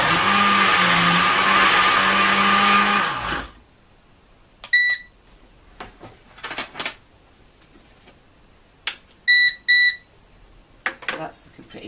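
A kitchen blender blitzes a wet critical care food mixture for a rat, whirring loudly for about three seconds before stopping, followed by quiet handling noises and a few short electronic beeps.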